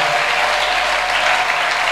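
Dense, loud applause and cheering from a large congregation at a church sermon fills the whole moment, a continuous wash of clapping with no pauses.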